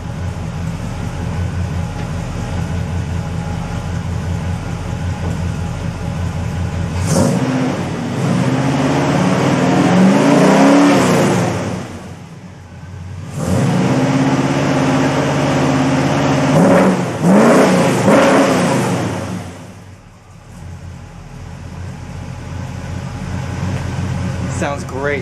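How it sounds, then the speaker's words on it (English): A 1974 Chevy Nova engine fitted with a Pypes Race Pro exhaust and polished stainless tips revs up twice, each rise swelling over a steady idle rumble, close by and loud, with brief talk between the revs. "It has a slight rumble. Let me give it a couple revs."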